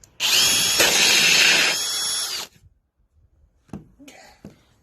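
A power drill whines loudly at high speed for about two seconds as it drills into a thin gourd, then stops, followed by a few soft knocks and handling sounds.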